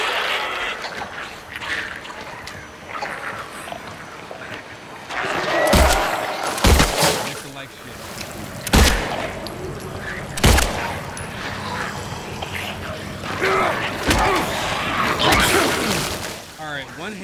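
Gunfire in the survival horror game Silent Hill 2 Remake: several sharp, loud shots spaced a second or more apart, over a murky ambient background with a voice talking between them.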